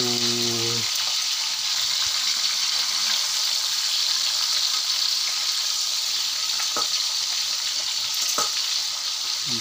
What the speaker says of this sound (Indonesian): Siap goreng ikan lema.